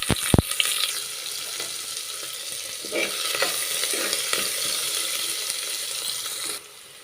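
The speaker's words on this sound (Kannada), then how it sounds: "ಈರುಳ್ಳಿ ಕೆಂಪಗಾಗುವಷ್ಟು ಹುರ್ಕೊಳ್ಳುವ." Onions frying in a pan for butterfly pea flower upma, a steady close sizzle with occasional stirring scrapes and clicks, holding at an even level before dropping off near the end.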